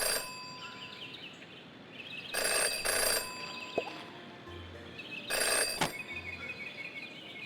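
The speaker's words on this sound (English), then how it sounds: "Jenny had learned never to ignore a ringing phone." A telephone rings in the Jenny LeClue detective adventure game, two bursts of bright electronic trilling separated by quiet, set against a faint ambient background with no speech.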